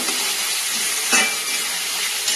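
Turmeric and salt stirred in a frying pan with leaf stalks, giving a steady, close sizzle and scraping stir with one brief louder scrape midway.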